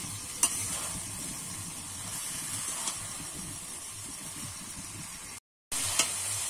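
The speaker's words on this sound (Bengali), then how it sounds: "এবারে ভেজে রাখা আলুটা দিয়ে দেব। দিয়ে কিন্তু আমি আবারও একটু নেড়ে চেড়ে কষিয়ে নেব।" Fried potatoes and moringa drumsticks are stirred in a pan for a vegetarian Bengali dish, with a continuous soft sizzle, occasional scraping clicks and a brief silent break near the end.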